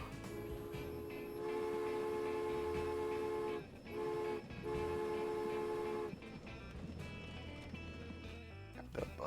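Trains run in the Transport Fever simulation game on a British network, with steady horn-like toots and rail rumble that sustain, briefly drop out and return.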